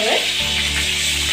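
Chopped green chillies and garlic fry in oil in a pan, producing a loud, continuous close-up sizzle with no speech over it.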